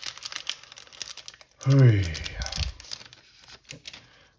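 A trading card booster pack wrapper for a Magic: The Gathering March of the Machine collector booster, crinkling loudly for about a second as it is torn open, then softer rustling with a brief spoken word.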